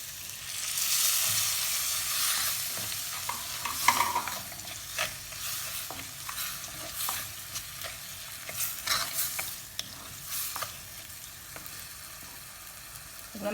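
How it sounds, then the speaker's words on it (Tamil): Dissolved tamarind goes into a simmering fish curry in a pan, giving a steady close hiss and bubble broken by the scrape of a stirring spoon. "இதில் கரைச்சி வச்ச புளியையும் போடுறேன்."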